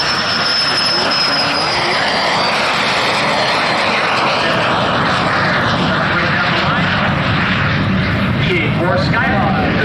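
A Boeing EA-18G Growler of the United States Navy, landing gear down and tail hook extended, roars steadily overhead at an air show, a loud sustained jet rush while an announcer talks over it.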